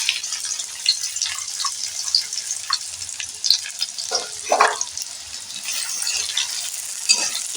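Chopped onion fries in oil in a wok while being stirred, with uneven crackling sizzle and occasional louder pops and scrapes close by.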